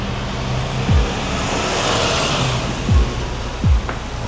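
Busy Singapore street traffic with air-conditioned public double-decker buses, a steady roar of engines and tyres with a few short whooshing passes nearby and a faint high whine above the din.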